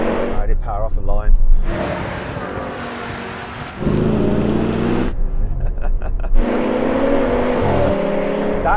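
A BMW M5 V10, an AMG E55 and an Audi RS6 accelerate hard in a drag race. Engines rev and climb through gear shifts, loud and close, with brief cuts between the bursts.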